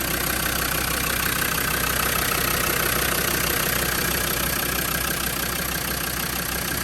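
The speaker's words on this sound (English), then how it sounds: "And there we have a TD5 engine." Land Rover Defender 90 with a TD5 diesel engine idling, a steady close-up rumble with an even, unbroken drone and a faint high whine throughout, no voices.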